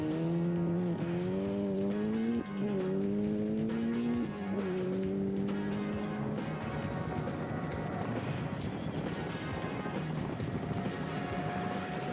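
Class 7 and 8 rally cars race on wide-open bauxite roads. Engines rise and fall in pitch through several gear changes, then blur into a sustained loud roar with no talking.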